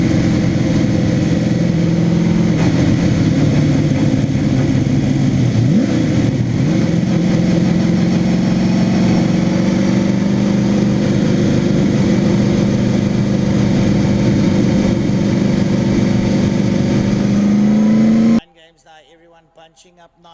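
Race cars on a restart, heading down into Fast Strong on the track, drone and rev steadily in a dense, loud engine roar that shifts in pitch as they pass. A commentator talks over it, and the roar cuts out abruptly near the end.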